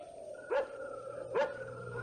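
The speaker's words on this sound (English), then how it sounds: "That barking dog." Dog barking as a sound effect in a 1975 radio drama: two distinct barks about a second apart, moderately distant over a low steady hum.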